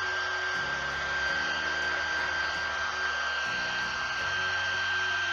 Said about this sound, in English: Let's get the blow dryer and speed up the drying process.